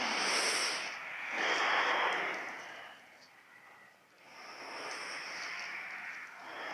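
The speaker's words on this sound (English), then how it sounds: "You should be able to hear your own breath." Audible ujjayi yoga breathing in a vinyasa class: slow, hissing breaths in long waves, each swelling for a couple of seconds and then easing, close and steady with no talk over them.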